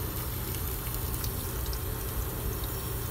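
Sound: cold running water from a tap over blanched broccoli

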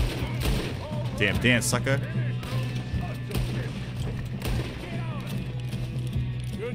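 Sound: gunfire in the video game Red Dead Redemption 2

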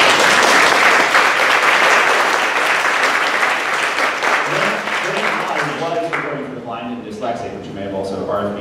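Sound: audience applause

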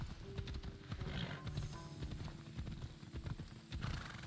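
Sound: horse hooves clip-clopping in video game Assassin's Creed Odyssey

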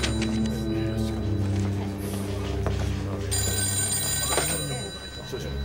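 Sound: telephone ringing

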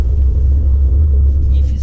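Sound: Volkswagen Amarok pickup braking hard from 45 km/h off-road

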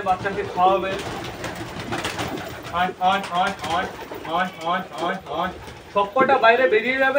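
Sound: pigeons cooing

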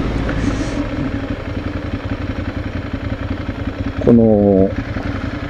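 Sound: motorcycle exhaust and muffler sound

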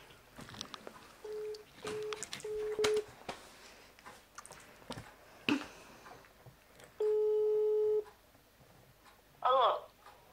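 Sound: telephone call tone while calling

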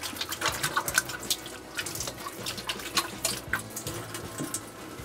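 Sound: washing hands under running tap water

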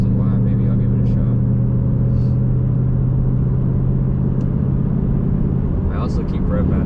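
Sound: 2023 Ford Mustang GT manual exhaust sound

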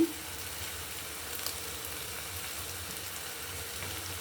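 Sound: jaggery added to pumpkin halwa cooking in ghee

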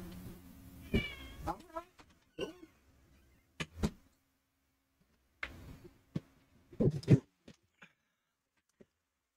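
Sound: cat meowing to be let out of room

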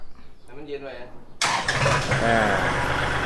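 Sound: Kubota L4018 tractor engine with stainless 304 exhaust pipe

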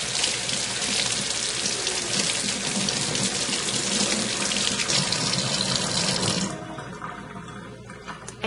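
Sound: tap water running, rinsing CerMark off metal

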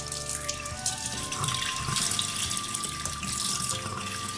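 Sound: water running while rinsing calcium test vial

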